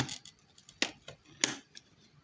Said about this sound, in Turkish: O bantı kesmemiz lazım.